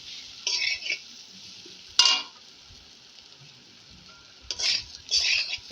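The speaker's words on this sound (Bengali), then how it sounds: "ভেজে রেখেছি সেই আলুগুলো দিয়ে দিলাম এর সাথে।" Fried potatoes tipped into a sizzling fish curry with bele fish, spices and oil, stirred with a spatula in a pan: a few short scraping, sizzling bursts with quiet gaps between, close by and fairly soft.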